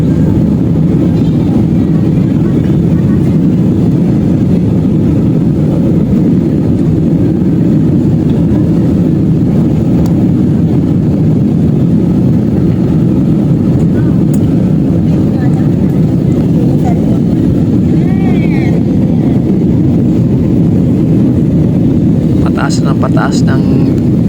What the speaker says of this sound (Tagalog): Pataas ng lipad ng eroplano dyan.